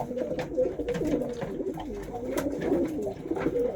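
Pigeons, Macclesfield breed cock birds, coo steadily in low, throaty rolling calls that overlap through the whole stretch, close by, with faint rustling and shuffling in the background.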